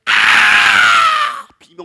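A high, sustained scream effect fills the first second and a half loudly and alone, rising sharply and fading out; a faint voice follows in the short tail.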